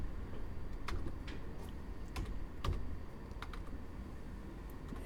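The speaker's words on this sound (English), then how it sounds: "I got to type all those values in again" Close, fairly quiet typing on a computer keyboard as values are entered, a steady patter of key taps with a few sharper strikes, heard alone without talk.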